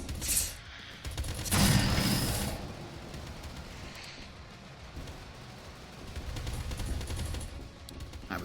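A mortar fires in the Doomtrain video game, sharp booming blasts at the start and again later, over a rumbling battle background.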